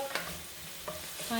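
Onions frying in a pan, a soft close sizzle with a couple of quick stirring scrapes over about a second and a half, with no one talking.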